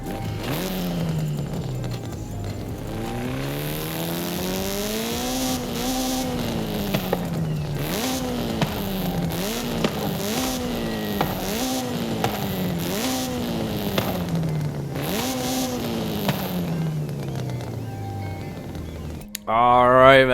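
A Honda Civic Type R in Forza Horizon 5, built for touge racing, revs hard and climbs through the gears in repeated rising sweeps, its engine note loud and continuous, ending in a brief louder burst.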